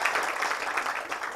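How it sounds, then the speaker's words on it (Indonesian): A seated audience at a business seminar gives a short burst of dense, even applause, many hands clapping together at close range. "Tepuk tangan untuk Pak Muslim, ya."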